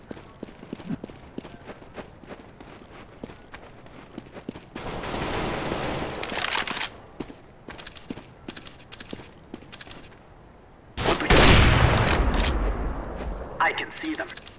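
Rapid gunfire bursts rattle in Counter-Strike: Global Offensive, with sustained fusillades around the middle and near the end over scattered footsteps and clicks, as people talk at times.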